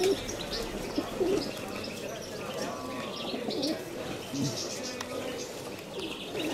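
Pigeons coo softly in an outdoor loft setting in Kozani, low repeated throaty calls at moderate distance, with faint chirps and ambient noise around them.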